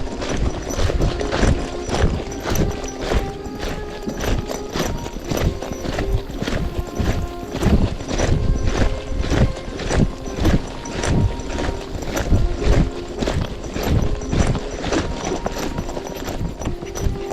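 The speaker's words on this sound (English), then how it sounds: "Let's do a little canter." A horse canters along a scenic Iowa county road during an evening training ride for endurance riding. Its hooves strike in a steady, rhythmic clip-clop, close and loud throughout, with no talking.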